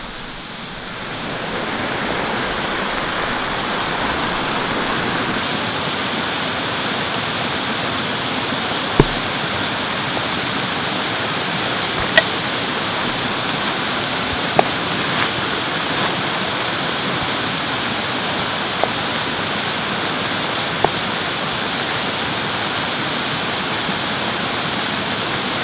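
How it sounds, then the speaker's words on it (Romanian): Heavy rain pouring through dense forest leaves, a steady, loud broadband hiss that holds throughout with a few faint sharp drips or ticks scattered across it. "plouă din ce în ce mai tare"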